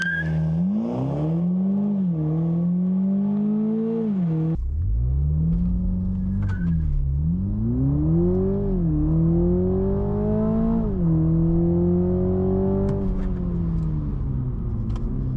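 A Toyota Supra GR with the 2.0-litre four-cylinder pulls hard from a standstill, its engine note climbing through several gears with brief dips at each upshift, loud and close inside the cabin, no voices over it.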